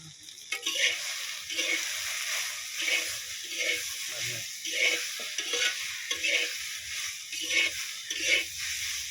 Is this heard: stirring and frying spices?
yes